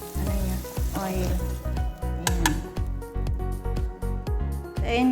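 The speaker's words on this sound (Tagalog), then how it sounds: "kumukulo na siya." Chicken afritada bubbles and sizzles in a pan, a steady close-up frying hiss punctuated by repeated clinks and scrapes of a utensil against the cookware.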